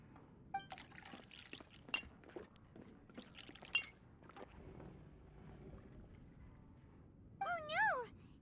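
Faint glass clinks tap out now and then over a soft ambient bed in the video game Genshin Impact as glasses of juice are served. A brief voiced sound rises near the end.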